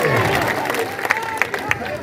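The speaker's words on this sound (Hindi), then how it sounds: "अब बजाइए ताली जिसको बजाना" An outdoor political rally crowd in Bihar claps and cheers in a burst of applause, with scattered sharp claps and a murmur of voices running under it.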